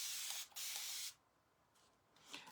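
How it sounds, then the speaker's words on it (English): Water sprayed from a spray bottle onto a board: two bursts of bright hiss close to the microphone, one long and one brief, then a quieter spritz near the end. "This is just water that I'm spraying on here."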